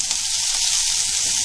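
Chillies hitting hot oil in a frying pan with ginger, garlic and spring onion, giving a steady, loud, close hiss of sizzling throughout.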